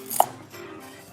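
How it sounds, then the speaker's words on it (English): A knife chops once through a spring onion on a cutting board, a single crisp close cut followed by near silence. "So now I will cut the spring onion into about like 5 cm."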